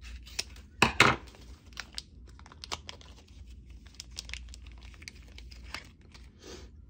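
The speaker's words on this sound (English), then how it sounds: "I better use scissors." Crisp snipping and crinkling of plastic packaging, with a few sharp cuts and rustles close by, no one talking.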